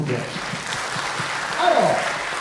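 A convention panel audience claps steadily in a hall, a dense loud wash of applause with a voice talking over it.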